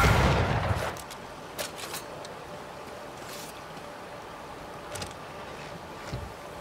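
A burst of gunfire opens, followed by a few sparse, fainter shots and mechanical clanks during a fight in the video game Banishers: Ghosts of New Eden.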